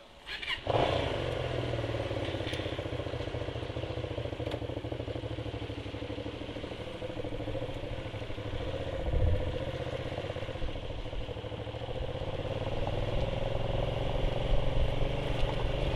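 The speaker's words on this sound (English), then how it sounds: "Riding the bike is probably the best thing for me today." A motorcycle engine runs steadily throughout a ride on a cold day, with a low continuous rumble that holds at a fairly even level and swells slightly near the end.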